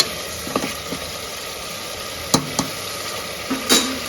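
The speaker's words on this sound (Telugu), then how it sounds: "మనం వేసుకున్న మసాలా అంతా బాగా వేగుతుంది" Masala spices fry in a pan for tomato pulao with a steady soft sizzle, broken by a few sharp scrapes and clacks of stirring close by.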